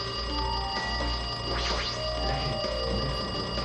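A phone rings repeatedly in Danganronpa 2, its electronic trill pulsing in a steady pattern above a constant low musical background, no voices present.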